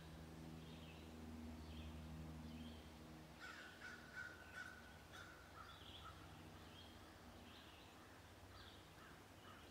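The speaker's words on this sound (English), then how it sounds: "That's why the crows are down there." Crows caw in a short cluster of calls midway through, faint and distant, over a steady low outdoor hum on a summer hike.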